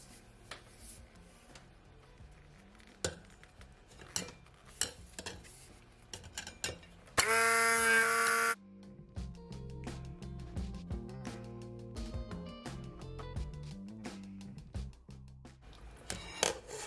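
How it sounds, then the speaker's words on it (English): A hand blender whirs loudly in one short burst, a bit over a second long, blending a ginger sorrel drink, between scattered clinks and taps of kitchenware. "I'm gonna use my hand blender guys."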